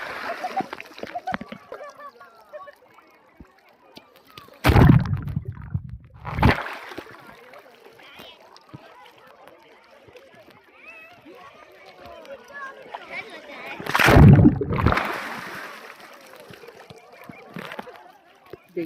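Splashing as someone wades into the sea at Bakkhali beach at low tide, with two loud, rough bursts of churned water standing out over steady surf and wind noise.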